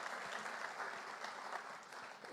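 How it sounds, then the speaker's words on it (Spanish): Audience applause at a lecture event rolls on as a steady, even wash of many hands clapping, fairly faint and distant, with no voices over it. "Te volvemos a dar un aplauso"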